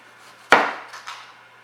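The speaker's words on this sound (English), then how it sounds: "I'm going to slice them into about," A knife slices through a washed persimmon on a board with one sharp close chop, followed by two fainter, softer cuts.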